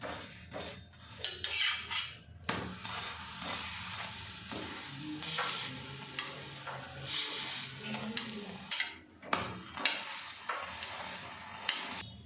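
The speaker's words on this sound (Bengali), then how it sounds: "তেল দিয়ে এপিট ওপিট করে ভেজে নিয়েছি" Flatbread snack made with lentils, wheat flour and egg shallow-fried in a little white oil on both sides, giving a steady soft sizzle mixed with stirring and the clink of a utensil against the pan, alone without talk.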